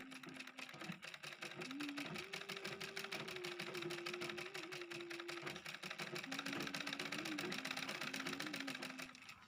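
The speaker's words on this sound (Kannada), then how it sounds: "ಇದು ಬ್ಲೌಸ್ ಪೀಸು ಕಟ್ ಮಾಡಿಟ್ಟಿದೆ ಹಾಗಾಗಿ ಇವತ್ತು ಸ್ಟಿಚ್ ಮಾಡ್ತಾ ಇದ್ದೀನಿ" A sewing machine stitches a blouse piece with a steady, close motor whir and rapid needle chatter that runs without a break for about ten seconds. No one speaks.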